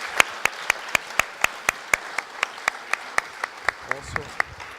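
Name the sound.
audience applause at a conference award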